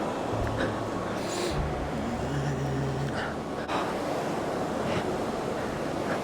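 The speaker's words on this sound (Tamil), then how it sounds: "தண்ணி ஃபுல்லாக அடித்து ஊற்றி ஓடுது" Water pours in full flow over Sholayar dam, a dense continuous roar mixed with wind buffeting the microphone, steady and loud from start to finish.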